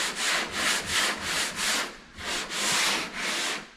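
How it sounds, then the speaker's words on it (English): Block sanding of a primed car body panel during prep for paint, heard as steady back-and-forth rasping strokes, about eight close, even passes with a short pause midway, no voices. "a bunch of block sanding"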